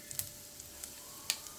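Peanuts fry in hot oil in a pan while being made crisp for a rice popcorn tempering, a quiet sizzle with a few sharp pops and spatters, no talk.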